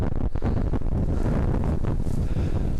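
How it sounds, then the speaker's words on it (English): Strong, steady wind buffets the microphone on an exposed stretch of a Mount Ascutney hike in Vermont, a continuous loud roar with no voices. "there's the wind welcoming us"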